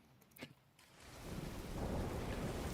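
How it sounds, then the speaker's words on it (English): Rain and thunder in a video game, a low rumble building into steady heavy rainfall that grows louder and fills the scene with continuous wash, no talking. "the rain is kind of perfect"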